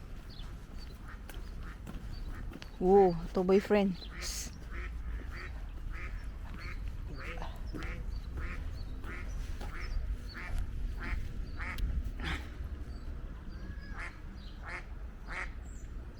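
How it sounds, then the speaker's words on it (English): Ducks quack in a loud burst of several calls near a castle in Celle, Germany, followed by softer scattered quacks and short calls over outdoor background, with a person speaking briefly. "Oh, duck again."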